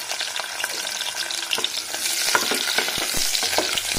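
Whole small onions frying in sesame oil for a country chicken soup, a loud close crackling sizzle stirred with frequent scraping strokes throughout.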